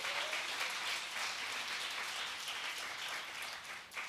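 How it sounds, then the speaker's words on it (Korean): A church congregation at a youth worship service gives a round of applause, a dense, steady wash of clapping heard from within the hall that keeps up for about four seconds. "우리 주님께 영광의 박수"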